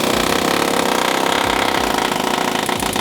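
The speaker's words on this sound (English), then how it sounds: "use power tools. Does all the punching for you." Loud, steady mechanical rattling and grinding from a power tool punching metal, continuous and close, with rhythmic low thumps underneath.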